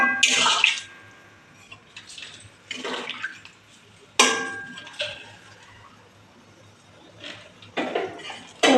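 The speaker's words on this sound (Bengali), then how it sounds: "পনির ভিজে রাখা জলটা দিয়ে দেব" Soaking water from paneer is poured into a hot pan in a home kitchen, coming in several short splashing bursts with quiet pauses between them.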